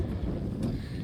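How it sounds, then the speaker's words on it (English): Wind gusting across the exposed top of the Skirrid hill at dawn, a brief low rumbling buffet against the microphone. "There's the wind."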